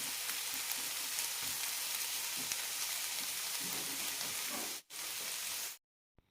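Jackfruit seeds and bitter gourd stir-fry dry-frying in a pan, giving a steady dense sizzle with soft stirring scrapes. The sizzle breaks briefly near the end, then cuts to silence.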